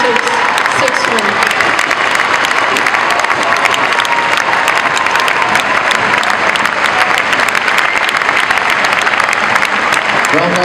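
Crowd applause fills a Fed Cup tennis match between Germany and Romania, a dense, steady roar of clapping hands sustained loudly for the whole stretch without a break.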